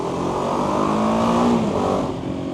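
A BMW G310GS motorcycle's exhaust drones loud and close while riding, a steady engine note that swells slightly and then eases, with no voices over it.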